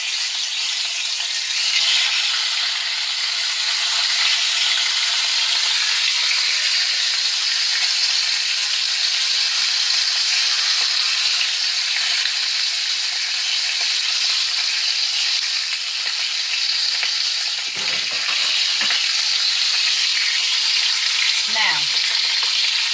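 Meat searing in a hot, smoking skillet, giving a loud, steady hiss and sizzle that holds throughout, with a few brief scrapes near the end.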